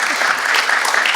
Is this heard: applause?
yes